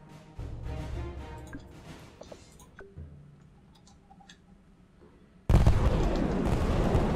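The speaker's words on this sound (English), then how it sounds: "That was a Blazing Saddles explosion." A loud explosion from the battle video game Totally Accurate Battle Simulator bursts in suddenly near the end, a broad roaring blast that follows quieter ticking and popping gunfire-like battle noise earlier on.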